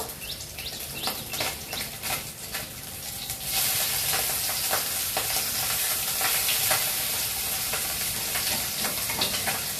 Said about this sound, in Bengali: গাছ থেকে একদম বড় বড় চাল কুমড়ো ভাজা হচ্ছে